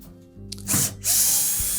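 A power drill driving out Phillips screws from the back panel of a Whirlpool range, a short burst of motor whir that spins up, pauses briefly, then runs steadily and close with a ratcheting edge.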